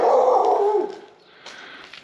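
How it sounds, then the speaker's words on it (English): A chained dog lets out a low, rough growl that trails off, followed after a short pause by a fainter bark, close by on a rural property in San Felice del Molise, Italy. "That would spoil it for me, the dog barking."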